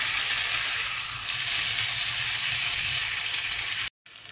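Potato slices stir-frying in a pan over low heat, a loud steady sizzle filling the clip before cutting off abruptly near the end.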